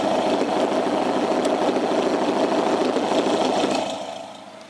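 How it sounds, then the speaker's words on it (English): A 2000 Honda Civic with an aftermarket 4-inch rolled-tip exhaust rumbles at a steady idle, a close, loud, low burbling drone that fades out near the end. "It's got a nice rumble to it when it's just sitting, idling."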